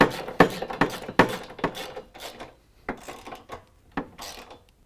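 A ratchet tightening a 16mm bolt on a running board bracket for a Chevy Silverado, heard as a series of short rasping clicks in quick bursts, then sparser strokes, close and fairly quiet.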